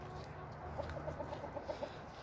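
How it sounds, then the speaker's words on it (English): Chickens cluck softly in a short series of quick, close notes over a faint outdoor hum. "I'm trying to feed the chickens."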